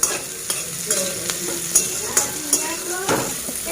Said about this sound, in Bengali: সেই বিনসটা নুন হলুদ দিয়ে ভাজা করছি